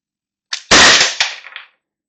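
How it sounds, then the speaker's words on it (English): A single shot from an Umarex HDP-50 pistol, a sharp loud crack with a brief tail and a couple of quick rattling echoes, heard alone. "Second shot."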